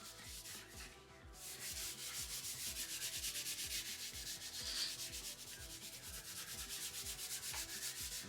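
Scuff pad rubbing over plastic interior trim of a Honda Civic EK hatchback with scuff stuff paste, a steady close-up abrasive scrubbing in quick back-and-forth strokes throughout, no voices.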